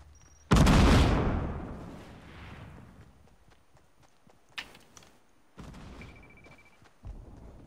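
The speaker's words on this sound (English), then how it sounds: "Is that last explosion yours?" A video game explosion erupts in a sudden loud boom that rumbles and fades over a few seconds, followed by sharper cracks and bursts of further blasts.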